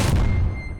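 A grenade blows up in Half-Life 2 (MMod), one short, heavy boom with a broad burst that quickly dies away into a fading rumble in under a second.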